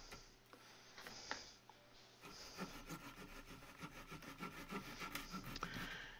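A small drywall saw cuts by hand near a run of Uponor PEX pipe, rasping in a steady back-and-forth rhythm of close, gritty strokes that grows denser after a brief pause, with no talk.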